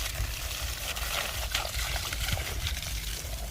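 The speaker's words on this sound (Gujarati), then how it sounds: "આ લેતા હાલ જો અમે ફૂલોને પાણી ભરીએ છીએ," Water trickles and splashes steadily while flowers are being watered, a close continuous wash of running water with faint low rumble underneath.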